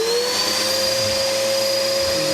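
A vacuum cleaner sucks dust out of an old, stuck sewing machine, its loud steady whine running close and unbroken with no one talking.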